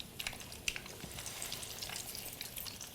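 A breaded beef cutlet fries in a pan with a low, steady sizzle and scattered small pops and crackles, faint and close, with no talking.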